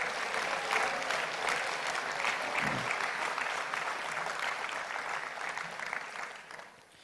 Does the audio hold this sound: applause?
yes